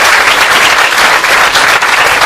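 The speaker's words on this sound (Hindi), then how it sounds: "ओके, जोरदार ताली हो जाए उनके लिए।" Loud, dense applause from a large crowd at a DXN India business event fills the whole moment, steady and continuous with no speech over it.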